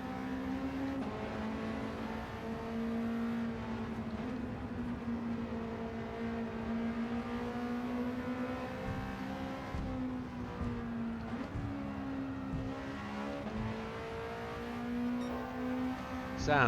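An Alpine A110 in Gran Turismo 7 on Tokyo Expressway revs steadily at high rpm, a continuous buzzing engine drone that rises and dips slightly with gear changes while lapping.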